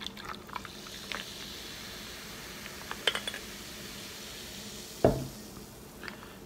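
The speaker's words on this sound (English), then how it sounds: "So I'm gonna pour it in with some ice." Orange cream soda poured over ice, with a splashing pour, fizzing and a few ice clinks, then a sharp clunk near the end, all close and quiet with no voices.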